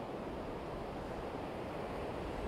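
Sea waves breaking on an East Coast beach at Sutton on Sea, a steady, dense wash of surf with wind buffeting the microphone, continuous and fairly loud throughout.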